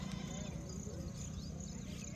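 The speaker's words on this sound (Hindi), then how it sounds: "देखो यहाँ पे बकरी बैल इनकी आवाज़ आ रही है" Goats and cattle call in a rural field in Rajasthan during the monsoon, as faint, distant bleats over a steady bed of insect buzz and low outdoor ambience.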